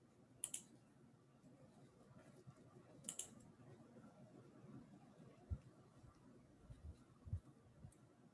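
Students type on computer keyboards during a chemistry lecture: sparse, faint clicks and taps scattered over a quiet room hum, with a few sharper knocks and no talking.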